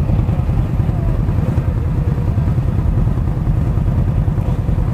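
A Victory Octane motorcycle engine runs steadily and loudly at about 4,000 RPM with a dense low rumble, held at a constant pitch without obvious surges.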